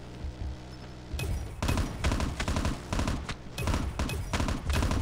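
Rapid bursts of automatic gunfire in the Call of Duty Mobile video game, loud and close, coming in repeated volleys after a short quiet start, with no talking over them.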